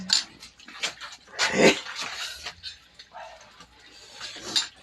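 A dog whimpers and barks in short bursts, fairly close, amid shuffling background noise.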